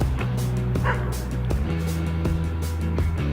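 A dog barks outdoors beside a river, giving a run of short, repeated woofs and yips over steady background noise.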